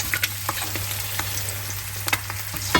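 An egg fries in a pan with steady sizzling and crackling, scattered sharp pops of hot fat breaking through a constant bubbling hiss, close and clear with no talking.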